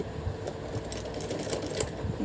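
Sewing machine stitching lace onto a lehenga waistband, a steady close mechanical whir with fast repetitive needle clatter running throughout without pause.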